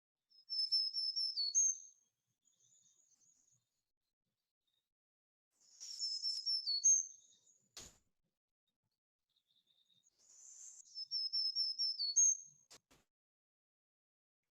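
A bird repeats three whistled song phrases of quick descending notes with pauses between them, clear against silence, with a faint trill and a brief click in the gaps.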